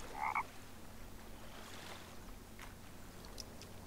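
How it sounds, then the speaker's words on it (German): A frog croaks once in the video game The Forest, a short loud gurgling call at the start followed by a quiet watery ambience with faint clicks. "Wahrscheinlich gibt es hier nur das Geräusch vom Frosch"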